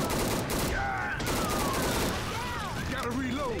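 Gunfire in Left 4 Dead 2: continuous, dense, loud shooting runs throughout, with people talking and game effects sliding over it.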